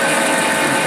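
A hand drill bores through a metal hinge shaft with a loud, continuous, dense whirring grind, steady and close throughout, with no voices.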